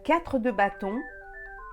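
A mobile phone rings with a steady electronic tone during a French tarot card reading, entering just as a voice finishes speaking and holding on alone, fairly close and moderately loud.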